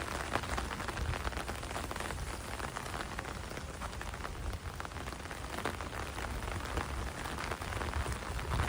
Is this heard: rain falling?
yes